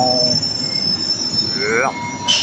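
A Rome Metro Line B train pulls into Circo Massimo station, its wheels squealing loudly and close in high rising and falling screeches over a steady rumble, with a brief higher squeal near the end.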